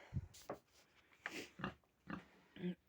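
A farm pig gives a series of soft, low grunts and snorts at close range, irregularly spaced over a few seconds in a quiet yard.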